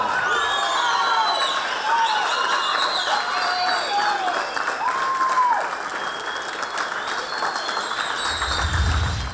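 Theatre audience applauding and cheering after a stage performance, dense sustained clapping with whoops and high shouts rising over it, lively and fairly loud throughout, a low rumble entering near the end.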